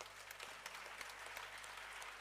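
An audience at an evening jazz concert claps in a dense, continuous wash of applause, steady and fairly distant across the whole moment, with no talking over it.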